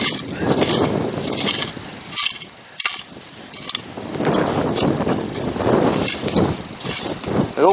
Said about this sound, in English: Let's get off this wind in a sec.